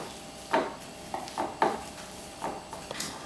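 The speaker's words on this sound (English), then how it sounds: "My potatoes are all peeled and I'm going to mash them. I'm just roughly mashing them up." Boiled potatoes being roughly mashed for aloo tikki, with several soft, irregular squashing thumps and scrapes from close by, spaced unevenly against a quiet kitchen background.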